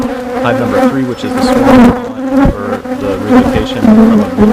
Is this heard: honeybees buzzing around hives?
yes